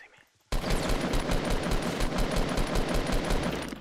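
Rapid automatic gunfire in the battle royale video game Fortnite, a dense sustained burst of repeated shots that starts abruptly after a brief quiet moment and continues loudly to the end.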